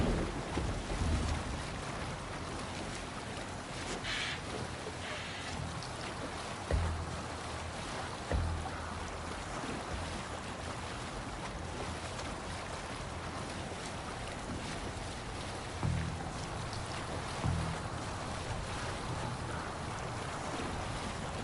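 Ship sailing on water in AC Valhalla, a steady wash of waves and wind rushing past the hull, with occasional soft thuds of the boat, fairly quiet and continuous.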